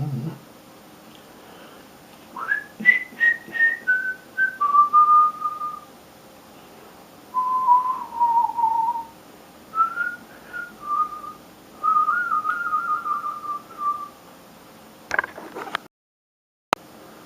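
Someone whistles a melodic tune in several sustained phrases, notes sliding up and down, with brief pauses between phrases and a faint tap near the end.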